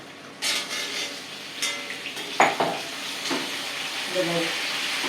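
Mixed vegetables for vatha kuzhambu sautéing in a pan: a bright hiss of hot oil, a few sharp spoon scrapes and clinks against the pan, then a low steady sizzle.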